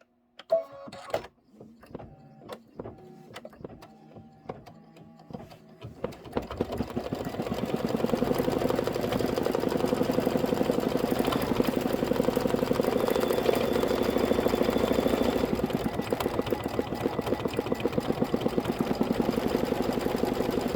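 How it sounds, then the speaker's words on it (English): A Kimberbell embroidery machine stitches a front post detail in mocha thread for a Fresh Flowers card, starting with a few sparse clicks and taps before settling into a steady, loud, continuous mechanical whirr of rapid stitching. "we're going to stitch the front post detail. So let's go ahead and stitch that."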